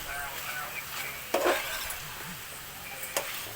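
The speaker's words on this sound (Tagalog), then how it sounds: "Tapos haluin." Chicken estupado being stirred in a pan, a faint sizzle under occasional scraping clinks of a utensil against the cookware.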